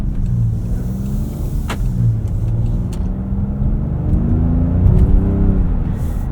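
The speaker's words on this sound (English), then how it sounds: "Auto stop start engaging there." 2024 Range Rover Velar P400 engine, heard from inside the cabin as a steady low rumble that settles as the auto stop-start engages, with faint whirring and clicks over a constant drone.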